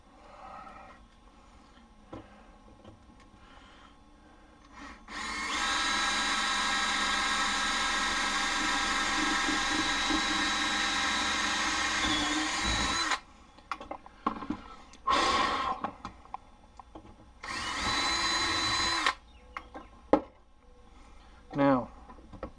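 A power tool whirs loudly and steadily for several seconds while working a brass Graflex lightsaber hilt held in a vise, then runs in shorter bursts between pauses with faint clicks and handling noise.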